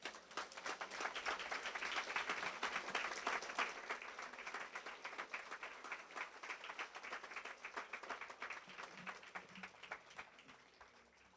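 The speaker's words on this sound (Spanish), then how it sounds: "Pues dale un aplauso al Señor." A church congregation applauds during a Spanish-language sermon, a dense wash of many hands clapping that holds steady for about ten seconds before thinning slightly toward the end, with no speech over it.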